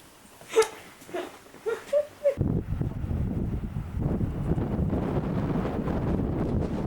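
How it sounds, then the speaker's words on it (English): Strong wind gusts outdoors on a cold day in New Mexico, a dense steady roar buffeting the microphone for the last several seconds after a few brief knocks and thumps at the start. "Oh, the wind's blowing."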